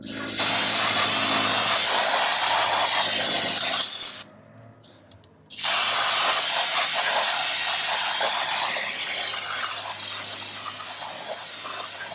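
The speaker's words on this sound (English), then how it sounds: "all we did there was spray it down with some brake cleaner" Loud, steady hiss of brake cleaner aerosol sprayed on drum brake shoes and components, broken by a brief pause before a second long burst resumes and gradually tapers.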